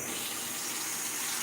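Hot water pours from a tap into a cooking pan, a loud continuous gushing rush that fills the whole brief moment without any break.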